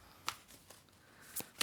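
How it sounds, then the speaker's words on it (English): Tarot cards are given a quick shuffle close up, a few faint soft riffling flicks and taps spread irregularly over a short moment, with no voice. "Just do a quick shuffle."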